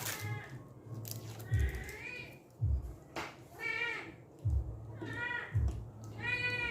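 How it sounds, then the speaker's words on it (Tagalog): Several pet cats outside a house meow repeatedly in a loose, overlapping rhythm, fairly close and insistent, over a low background rumble. "yung mga pusa ko doon kasi sa labas ng bahay. Kaya medyo maingay sila."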